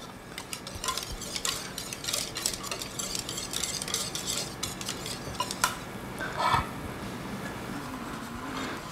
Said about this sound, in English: and I stir with a whisk